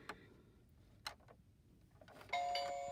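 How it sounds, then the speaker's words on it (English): Electronic doorbell chime sounding once near the end, a clear ringing tone after a few soft clicks and taps over a quiet background. "Ring the doorbell."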